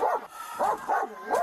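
A dog barks and yips in quick repeated bursts, loud and close, with a whiny, strained tone.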